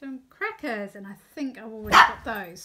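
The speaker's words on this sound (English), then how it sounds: "Sorry about the barking." Dogs playing with each other let out a short bark, partly masked by someone talking nearby, who speaks over most of it.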